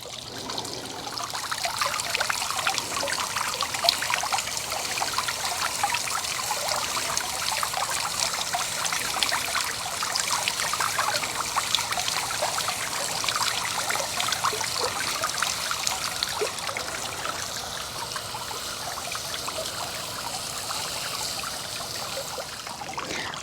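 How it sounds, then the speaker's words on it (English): Water from a hose or can soaking newly planted Sonic Bloom weigela, Sunny Boulevard hypericum and white bacopa shrubs in a garden bed, a steady hissing trickle and splash that runs unbroken throughout. "I'm gonna get these watered in real good"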